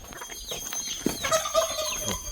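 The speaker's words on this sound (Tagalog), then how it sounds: "ang lalaki ng manok dito. Tingnan mo yung manok, oh." A large rooster clucking and calling close by, short throaty squawks and a brief crow-like burst over faint outdoor background.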